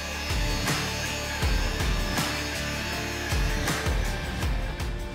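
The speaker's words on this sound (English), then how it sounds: "I'm going to give the area a good polish with a soft mop head" A car body panel being polished with a soft mop head on a machine, giving a steady whirring drone with rhythmic pulses as the mop sweeps back and forth across the panel, close and continuous.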